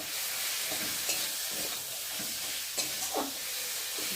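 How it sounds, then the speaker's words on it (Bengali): Chili powder, turmeric powder and salt frying in oil for a fish curry, a steady hiss broken by soft scraping stir strokes, moderately loud and close. "এই মশলাটা ভালো করে তেলের মধ্যে কষিয়ে নেব।"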